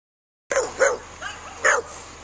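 A little dog barks outdoors in hilly country, three or four sharp, high yaps spaced unevenly at moderate distance over a low steady hum.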